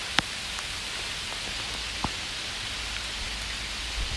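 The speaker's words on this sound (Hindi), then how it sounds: "कंटिन्यू बारिश चल रही है भाई।" Steady, continuous rain hisses evenly throughout, with a few louder drops tapping nearby now and then.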